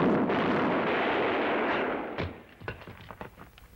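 Gunfire from a movie soundtrack: a sustained, loud roar of rapid shots fading out, followed by several sharper separate bangs at uneven intervals.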